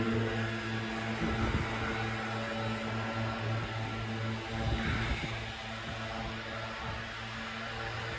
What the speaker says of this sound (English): We've got some guys with leaf blowers over here.